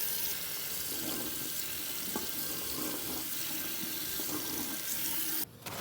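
Water streams steadily from a tap, a constant hiss and splash close by, cutting off abruptly just before the end.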